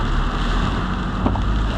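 Loud, dense roar of typhoon heavy rain mixed with gusting wind buffeting the microphone on EDSA, constant and close with no pauses.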